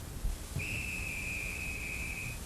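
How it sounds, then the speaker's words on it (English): A train conductor's whistle sounds as one long, steady, shrill tone lasting about two seconds over a low background hum. "Oops, that's the conductor's whistle."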